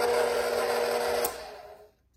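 Electric mixer whirring steadily while blending flour into cake batter, a loud even motor drone that cuts off after about a second and a quarter, then winds down and fades to quiet.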